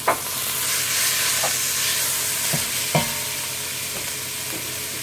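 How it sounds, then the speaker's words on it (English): Ground beef browning in a hot pot for homemade chili gives a loud, steady sizzle throughout, with a few sharp knocks and scrapes of a spoon; no one speaks. "we're going to throw this ground beef in there"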